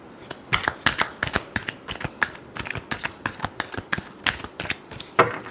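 A deck of tarot cards is shuffled by hand in a rapid series of crisp, riffling flicks and snaps, close and steady, with no voices.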